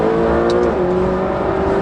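McLaren GT sports car engine burbling through an aggressive downshift, a steady close engine note dipping in pitch with a brief crackle near the start, heard alone without talk.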